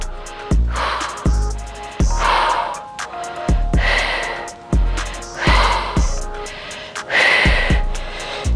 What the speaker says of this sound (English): I'm breathing really, really hard because it's getting quite challenging